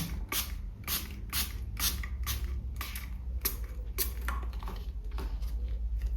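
A spray bottle is pumped repeatedly, giving a steady series of short hissing spritzes over low background rumble.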